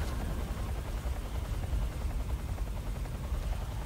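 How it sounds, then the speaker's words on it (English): A helicopter in the Metal Gear Solid 3: Snake Eater video game, heard as a continuous low rotor thrum with rough pulsing. It stays fairly quiet and steady throughout, with no voices. "there's also a helicopter flying back and forth all the time"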